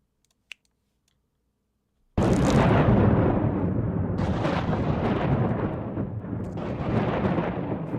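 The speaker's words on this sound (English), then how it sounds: "After when the explosions went off, when the lightning was zapping at the explosion" A sudden loud blast from explosions in the Worldbox game, following a faint click, then a sustained roaring rumble with fresh bursts layered in, staying loud to the end.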